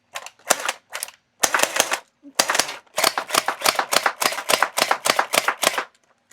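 A TG M4A1 gel blaster toy gun fires in loud, close, rapid clattering bursts of shots separated by short pauses.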